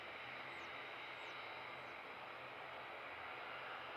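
An aircraft taking off at Christchurch International Airport, heard as a steady broadband engine roar from a distance, constant in level and without voices.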